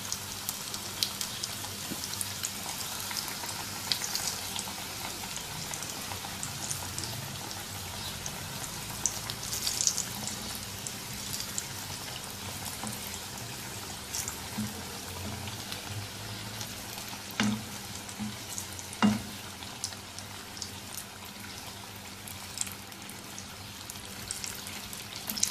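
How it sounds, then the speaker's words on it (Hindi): Samosas deep-frying in hot oil give a steady, moderate sizzling hiss that carries on through the whole stretch, with a few brief clinks standing out partway through. "ऐसे सारे समोसे फ्राई कर लेंगे"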